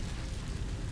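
An Incendio fire spell is cast in a Harry Potter video game, producing a short, dense, roaring whoosh of flame with a heavy low rumble.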